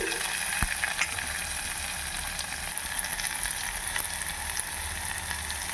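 Onions sizzle steadily in a pan, a close, dense, continuous frying hiss with occasional small ticks and pops, no voices.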